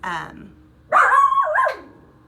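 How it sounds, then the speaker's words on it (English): A dog barks loudly and close by, one sharp bark followed by a drawn-out, wavering howl-like yelp, after a brief spoken word at the start. "apparently my dog is gonna keep barking"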